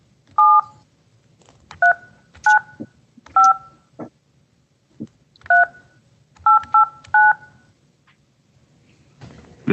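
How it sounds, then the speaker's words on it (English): A telephone keypad sounds a run of loud, clear dialing tones, about nine short beeps in irregular clusters with gaps between them, close up with faint room noise beneath and no speech. "I'm going to try to reach him by telephone."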